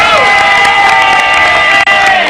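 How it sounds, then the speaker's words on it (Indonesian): A studio audience breaks into loud cheering and applause, a dense crowd roar with shouts carrying through the short burst. "Oh, tepuk tangan dong."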